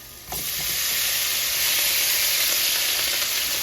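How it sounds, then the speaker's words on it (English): Broccoli florets drop into hot butter and olive oil in a pan, setting off a sudden loud, steady sizzle and hiss that holds close and strong to the end with no talking. "Now you're going to add in the florets."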